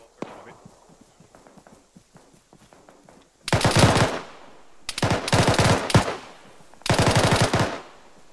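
Automatic gunfire erupts in three loud, sustained bursts during a ShackTac military game mission, following a stretch of quieter scattered footsteps and movement.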